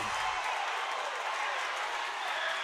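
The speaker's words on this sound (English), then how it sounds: "The Atkins crowd is going nuts over there" A basketball crowd at a Hector Wildcats home game against Atkins roars and cheers continuously, a dense, loud wash of voices and applause filling the whole short stretch.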